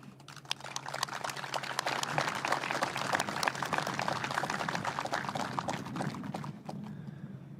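Steady crowd applause at a Korean West Sea Defense Day ceremony, honoring the newly rebuilt Cheonan navy warship, a dense continuous patter heard at moderate distance with a low hum underneath, easing slightly near the end.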